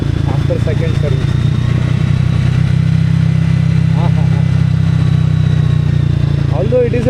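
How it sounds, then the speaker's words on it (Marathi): A single-cylinder motorcycle engine thumps steadily while being ridden on a road, a loud, close, even low drone that runs throughout with faint voice sounds over it. "गाडीचा आवाज तुम्हाला ऐकायला येतोय की नाही माहीत नाही,"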